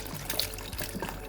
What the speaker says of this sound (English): Just poured in my stock, as the meat stock